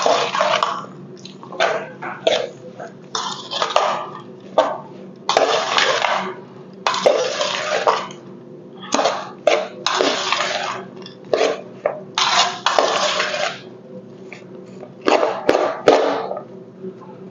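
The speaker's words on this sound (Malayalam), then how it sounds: "എങ്കിൽ പോലും ഞാൻ മുളക് പൊടി ഇട്ടിട്ട് ഇങ്ങനെ ഇളക്കിയാണ് നമുക്ക്." A spoon scrapes and clinks in a bowl of mango pickle as chili powder is stirred in, giving irregular bursts of close metallic scraping with brief pauses between strokes.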